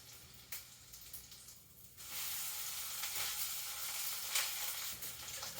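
A leftover rice pancake fries in hot oil with a steady, close sizzle that jumps louder about two seconds in and then holds as a dense, bright crackle, with no voices.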